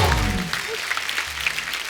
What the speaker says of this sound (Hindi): एक बार जोरदार तालियां हो जाए जवानी जाने मन की पूरी स्टार कास्ट के लिए